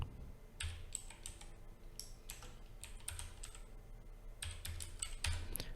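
Rapid keystrokes on a computer keyboard while entering a cPanel username. The typing comes in several quick bursts with short pauses between them, close and fairly quiet, with no talking over it.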